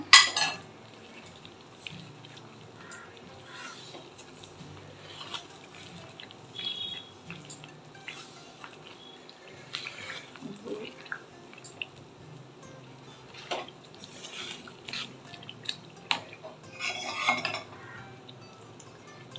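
Ghee Mysore pak mixture stirred in a pan, heard as faint, scattered scrapes and clinks of a utensil against metal over quiet background, with a few louder knocks.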